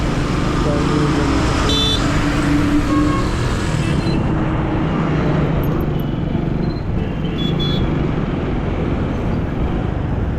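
A car slowly pulling into a parking area at the Ranjangaon Mahaganpati temple: a steady engine and road rumble runs throughout, with faint traffic behind it and a brief higher tone near the start.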